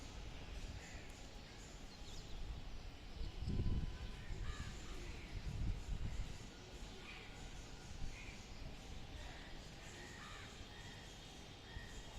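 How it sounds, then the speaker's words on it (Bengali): Crows caw repeatedly at a distance, mixed with other birds chirping over steady wind noise, with a couple of louder low gusts. "পাখি আর কাকের সাউন্ড শোনা যাচ্ছে"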